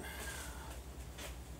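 A cat meows faintly behind a workshop door that isn't latching properly, a brief soft call over a steady low hum.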